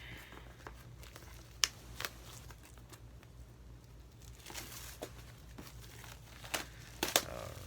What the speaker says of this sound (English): let's get the plastic off, and let's dig in, shall we?